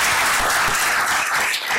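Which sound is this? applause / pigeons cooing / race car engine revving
applause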